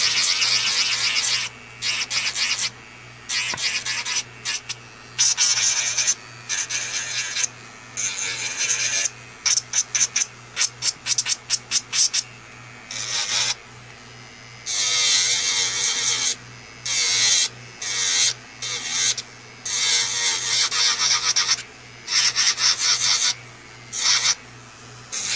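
An electric nail drill with a sanding band makes intermittent high-pitched grinding and rasping in short bursts of varying length around a gel nail tip's side wall, a close-up filing buzz with a steady low hum underneath.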